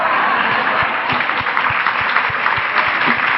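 Conference audience applauding: dense, sustained clapping from a large crowd, loud and even throughout, with no voices on top.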